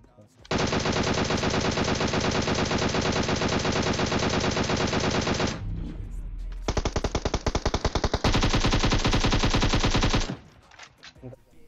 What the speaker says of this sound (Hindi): मैं बहुत सारी गोलियां पिलता हूँ और डैमेज भी बहुत होता है